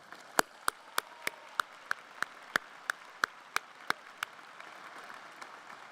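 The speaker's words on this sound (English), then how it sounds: "Join me in a round of applause." At a university commencement ceremony, sparse single claps ring out in a slow, even series of about a dozen sharp hits, then thin away toward the end over a quiet room.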